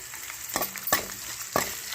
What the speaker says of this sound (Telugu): ఈ వెల్లుల్లిపాయలు, ఈ ఉల్లిపాయలు బాగా వేగాలి